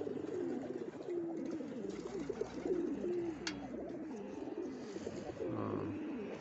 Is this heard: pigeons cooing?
yes